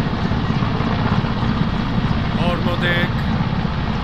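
A Hungarian Air Force helicopter at Szolnok, a loud continuous rotor and engine roar filling the whole stretch, with a voice briefly heard over it.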